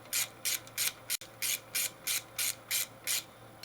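Small 8 mm nuts come off a Denso alternator with a hand ratchet in a steady series of about ten short, evenly spaced scraping strokes, close and alone.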